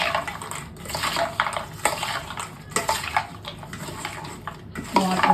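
Spoon scraping and clinking against a bowl while nimki chaat is mixed, with wet, squelchy stirring sounds in a steady, close, moderately loud run and no talking.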